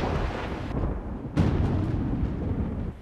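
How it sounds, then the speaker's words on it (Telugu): A lightning strike near Tada in Nellore district, hitting palm trees during light rain, heard as a loud sudden thunder crack followed by a sustained rumbling roar outdoors, no voices. "ఆకాశం మేఘావృతమై సన్నటి జల్లు ప్రారంభం కాగానే పెద్ద శబ్దంతో పిడుగుపడింది."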